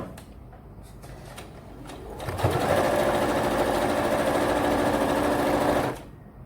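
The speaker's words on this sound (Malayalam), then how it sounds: "ഈ കോർണറും നമുക്ക് അതുപോലെ തന്നെ സ്റ്റിച്ച് ചെയ്തെടുക്കാം." A sewing machine stitches the corner of a fabric basket: faint handling taps first, then a steady close mechanical whir for about three and a half seconds before it cuts off.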